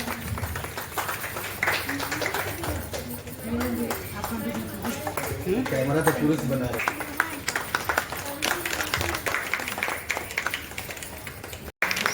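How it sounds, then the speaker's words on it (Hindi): Audience clapping at an Inner Wheel Club installation ceremony and Sawan festival held in a hotel, a steady dense patter running the whole time beneath loud talking voices. "अब बड़ा दे और जोर से उत्साहन करें, तालियां बजाएं"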